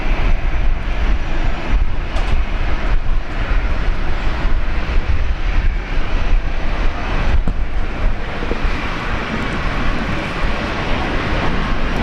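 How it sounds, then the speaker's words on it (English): A Fiji Airways Boeing 737 MAX 8 airliner at Brisbane Airport gives off a steady, loud jet engine roar that stays broad and constant, with a voice briefly heard over it. "737 MAX 8."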